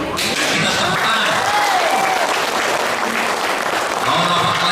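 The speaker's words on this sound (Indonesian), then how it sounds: "Kita tepuk tangan." A political crowd at a party registration event for a deputy regent candidate bursts into loud, dense applause, sustained and even throughout, with some voices mixed in.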